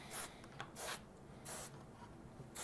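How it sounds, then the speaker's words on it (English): Contact cleaner sprayed from an aerosol can onto the parts of a Radio Shack EC 3006 thermal printer calculator under repair, four short bright hissing bursts in an uneven rhythm, close and quiet. "let's give this a spray out."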